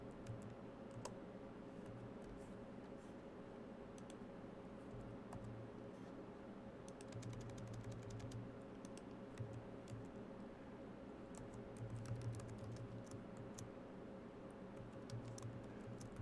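Someone types on a computer keyboard, quiet irregular clicking keystrokes in scattered bursts over a faint steady hum, with no voices.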